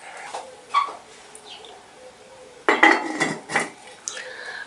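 A lid goes back onto a cooking pot of veggie stew with ginger and whole chili: a few light metallic clinks, then a sharper clank and rattle as it settles, close by in a quiet kitchen.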